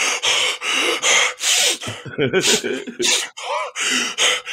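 A person imitates heavy, gasping breaths and wet sniffles, loud and close, in a rapid rhythm of harsh inhales and exhales.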